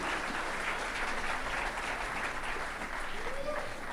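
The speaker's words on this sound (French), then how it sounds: "Vamos a darle un aplauso a ellos." A church congregation applauding during a bilingual sermon, sustained clapping at moderate distance with murmuring voices underneath.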